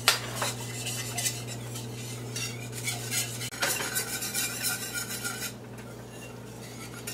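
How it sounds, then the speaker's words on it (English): A whisk clinks and scrapes rhythmically in a pot of simmering chipotle buffalo wing sauce with white distilled vinegar, with quick metallic strokes close up and a low hum fading partway through. "Simmer now for a few minutes. Stirring with my whisk."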